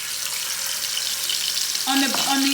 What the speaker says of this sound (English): It takes no time for scallops to cook, so be very careful.